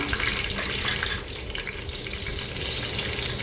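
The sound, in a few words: frying green chillies in oil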